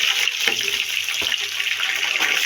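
Cumin seeds sizzle in hot oil, a dense, steady hiss of frying that runs without a break, close and fairly loud.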